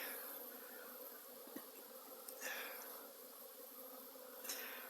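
Cordovan honeybees drone in a steady, faint buzz in flight, with a few louder passes sweeping by as individual bees fly close.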